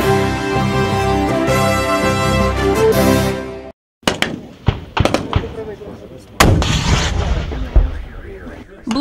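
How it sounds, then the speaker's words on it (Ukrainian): Explosions, artillery bursts and small-arms volleys at a military checkpoint exercise: a dense, loud opening blast of noise cuts off, followed by a series of sharp separate bangs and rumbling booms at irregular intervals. "вибухи, гарматна черга, стрілкові залпи"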